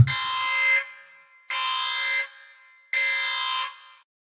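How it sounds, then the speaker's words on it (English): A harsh electronic buzzer blares three times in a steady rhythm, each blast under a second long, loud with nothing else around it. "let's hit the buzzer"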